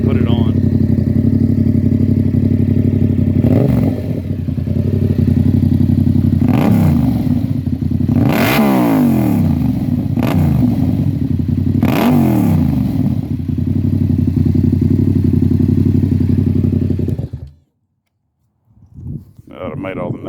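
Motorcycle fitted with a KO Lightning exhaust, loud and close, idling with a heavy throb and blipped through several sharp revs that rise and fall before the engine cuts out near the end, followed by brief faint sounds.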